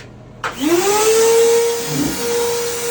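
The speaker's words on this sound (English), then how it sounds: "we gotta suck the water out of the tank before we disconnect the thing" A vacuum sucking water out of a tank starts up abruptly with a loud whine. It settles into a steady, close, roaring suction, and its pitch wavers briefly partway through.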